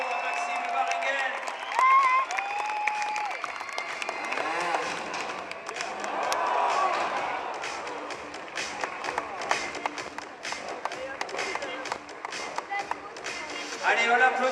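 Crowd in the stands of an indoor motorbike trial event at the Metz arena, cheering and clapping in a dense, steady roar with an announcer talking loudly over it throughout.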